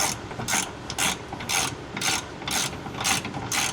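A ratchet tightens a 22 mm bolt on a Mitsubishi 3000GT adjustable control arm, giving about seven regular buzzing clicks bursts in a steady rhythm, close up, with no talking.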